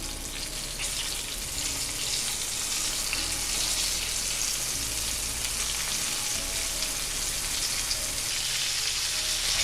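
Walleye fish frying in hot oil, a dense steady crackling sizzle that stays loud and close the whole time with no voices.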